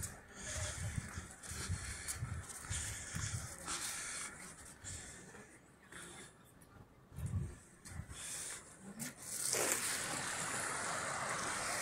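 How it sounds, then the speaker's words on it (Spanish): The Arga river flows beneath the old stone bridge at Puente la Reina in Navarra, a continuous rushing wash of water that swells and fades with wind buffeting over it. "El río Arga."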